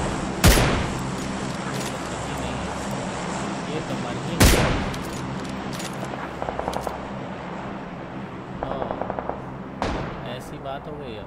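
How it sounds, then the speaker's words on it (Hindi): Gunfire in PUBG Lite, with several sharp, loud single shots and a few short rapid automatic bursts spread across an ambient game background, with speech over it. "देखो गोलियों की आवाज़ आने लगी"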